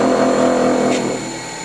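Woodturning tool pressed against a grinding wheel, a steady close hum with a bright tonal whine that eases off and quiets near the end, no talking.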